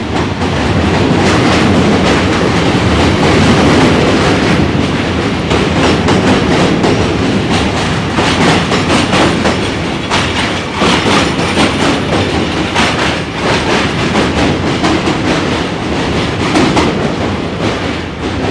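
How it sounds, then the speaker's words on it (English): A train rumbles past on a bridge in New York City, a loud, steady roar with rhythmic clickety-clack of wheels and faint metallic squeal, sustained close by throughout. "Brian, this train passing is for you!"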